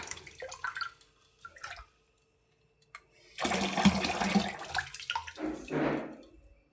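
Water drips and trickles briefly, then after a pause gushes and splashes loudly into a rice pot in two bursts, close up and without speech.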